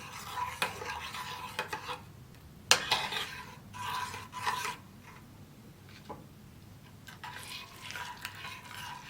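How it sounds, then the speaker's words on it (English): A spoon scrapes and clinks around a pot as a thick mixture is stirred, irregular metallic taps and scrapes over a faint background hiss. "Keep stirring."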